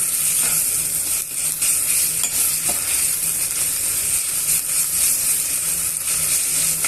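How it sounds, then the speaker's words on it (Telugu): Ginger-garlic paste and green chillies fry and get stirred in hot oil for a restaurant-style chicken fry, giving a loud, steady, close sizzle with faint scrapes throughout and no voices. "ఇవన్నీ కూడా బాగా మిక్స్ చేసుకొని వేయించేసుకోవాలండి"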